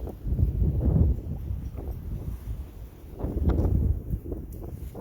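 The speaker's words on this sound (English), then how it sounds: "it is quite windy, it's quite cold" Gusty, cold wind in a garden buffets the microphone in low rumbling surges, rising and falling over a few seconds.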